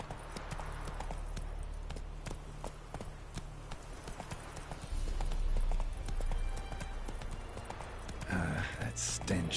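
Roach the horse galloping in The Witcher 3 video game, a brisk steady run of hoofbeats that grows louder midway, with a voice briefly heard near the end.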